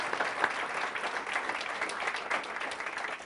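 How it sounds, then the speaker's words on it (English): Warm, steady applause fills an ethics symposium hall as the audience claps for the event's sponsors. The even, moderately loud clapping comes with no voices over it. "How about a warm round of applause for Wells Fargo?"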